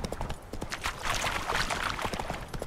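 Horse hooves clip-clop at a steady walking pace in The Witcher 3, close and fairly loud, with a busy rhythmic patter of clops and faint background sounds, no talk.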